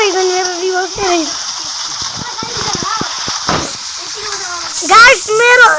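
Steady hissing rain falls without a break in a bus driving video game, a dense even wash with a few brief splashy bursts and a voice speaking over it near the end.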